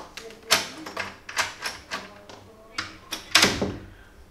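A door lock that had been broken is worked repeatedly, giving a series of sharp clicks, clacks and thunks at uneven intervals, close and fairly loud.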